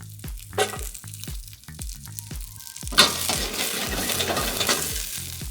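Oil and aromatics sizzle steadily in a pan ahead of clams for spaghetti, a close, continuous crackling hiss with stirring knocks and spatula scrapes, growing louder and denser after a sharp clatter midway.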